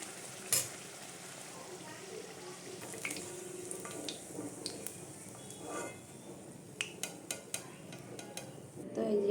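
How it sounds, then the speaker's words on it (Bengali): Luchi, puffed flatbread, fries in hot oil with a soft, continuous sizzle, sharp pops and crackles scattered throughout at a moderate distance. "তাই যে গরম গরম লুচি ভাজা হচ্ছে"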